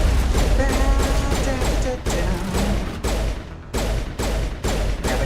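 Combat in the video game Mass Effect, with a rocket and gunfire: repeated loud, sharp impacts and bursts of shots in quick succession, with heavy thumps breaking up a continuous barrage.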